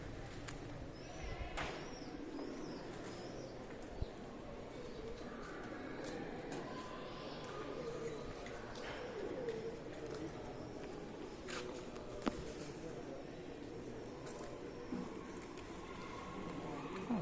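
Pigeons and other birds at a Malaysian temple where rice has been scattered for them, soft cooing and scattered calls over a steady outdoor hum with distant murmuring voices, moderately faint throughout.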